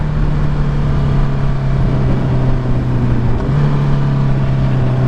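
A 2021 Honda CBR650R is ridden along a bumpy road, its engine a loud, steady drone with a constant low hum, and wind rush throughout.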